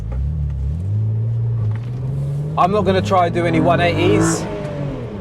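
A Renault Clio V6 rumbles at low revs, then the engine climbs in a strong rev with audible intake noise, heard from inside the cabin while someone talks over it.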